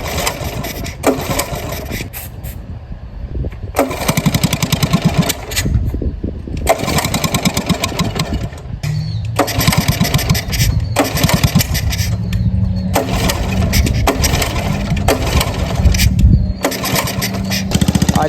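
A 1982 Honda ATC 110 three-wheeler engine cranks and catches, then runs with a steady, loud single-cylinder chatter close by, revving unevenly between idle and higher speed.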